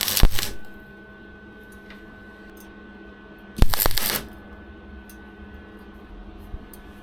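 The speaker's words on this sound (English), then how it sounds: "so I'll get that tacked on, and then I can stick the next 45 on, get that welded" Two short bursts of tack welding on a custom intercooler pipe section for a Vectra GSI Z20LET, crackling sharply at the start and again midway, with a steady hum and quiet workshop background between.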